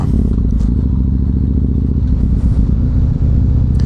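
A Yamaha MT-01 motorcycle sets off, its big engine giving a loud, deep, steady rumble heard close up, with faint clattering over the top.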